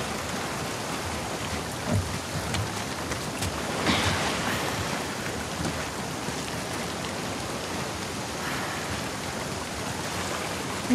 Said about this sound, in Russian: Давай спрячемся от дождя.